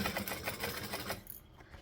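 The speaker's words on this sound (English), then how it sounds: "This thread sounds very different from my normal thread in the sewing machine." A sewing machine stitches in a rapid, even rhythm for about a second before stopping, fairly close and clear with no talk.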